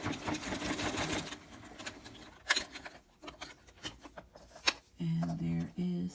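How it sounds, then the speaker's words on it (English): A sewing machine runs a top stitch on a leather zippered clutch bag, whirring in bursts with pauses, close and steady, ending in a louder rhythmic stretch of stitching. "I'm just going to go ahead and perform a top stitch"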